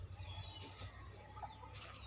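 A chicken clucks with a few short, soft calls, faint and close against a quiet background with a low hum.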